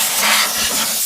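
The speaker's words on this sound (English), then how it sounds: "I blow any debris out of the box." Compressed air hisses steadily from a nozzle, blowing debris out of a motorcycle airbox during air filter cleaning; one continuous close, loud blast lasting about a second with no talk.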